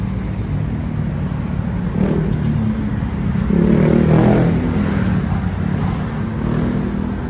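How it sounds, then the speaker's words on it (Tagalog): Busy street traffic with many cars and motorcycles passing, a continuous low engine rumble that swells as vehicles go by near the middle, with occasional revving, fairly loud and without talk. "As you can see, napaka-busy ng street, ang daming sasakyan."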